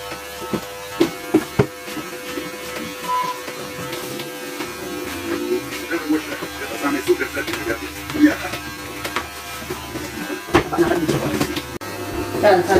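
An electric hair clipper buzzes through hair during a home haircut, a steady close hum with intermittent bursts as it moves, under frequent conversation between people.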